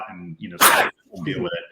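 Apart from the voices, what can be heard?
sneeze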